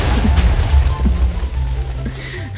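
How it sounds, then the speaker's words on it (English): A Minecraft explosion in a multiplayer session booms loud and close, its heavy low rumble rolling on with crackling debris for a couple of seconds before easing off. "It's an explosion and you're gone."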